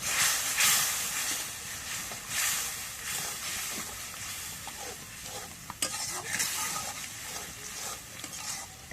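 Spices and cumin paste frying in a pan while being stirred, a steady close sizzle with scraping stir strokes throughout, no talking.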